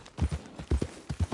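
Horse hooves clip-clop in an even, repeated gait within the video game Red Dead Redemption 2, with about six close, moderately loud strikes over a brief stretch and no talk.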